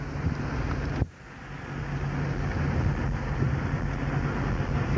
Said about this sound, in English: Feel this wind.